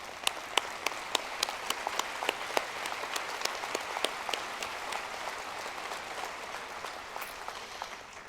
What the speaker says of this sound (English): Yes, they do deserve a round of applause.